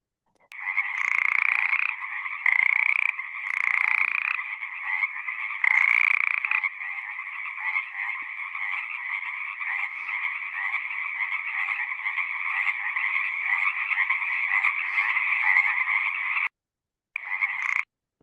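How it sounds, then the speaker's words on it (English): Frogs call all at once in a dense nighttime chorus, a steady trilling drone that goes on for the whole stretch with a few louder bursts early on. It stops briefly near the end and then starts again. "I hope you were able to hear all these beautiful frogs calling in the background"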